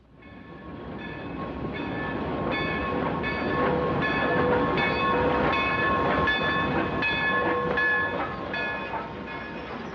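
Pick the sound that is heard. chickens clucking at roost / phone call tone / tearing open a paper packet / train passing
train passing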